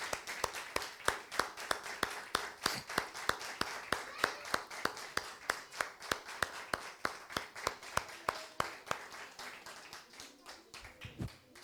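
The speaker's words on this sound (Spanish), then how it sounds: "Y si le aplaudimos al Señor fuerte por su presencia" A church congregation claps in steady, even rhythm, a long run of distinct hand claps at a brisk pace, fairly quiet and somewhat distant.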